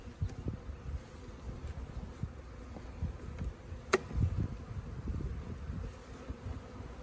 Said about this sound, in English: Tap off any bees on the bottom.